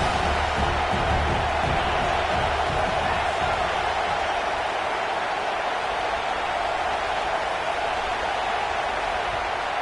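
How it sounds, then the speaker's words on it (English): Roar of a college football stadium crowd at an Alabama vs Colorado game, a steady loud wash of massed voices and noise holding level from start to finish with no single voice standing out. "This crowd bringing the energy and noise early."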